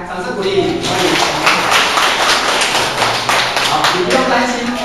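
An audience claps to welcome someone onto a stage at a talk, a dense burst of applause close by with a voice speaking loudly over it.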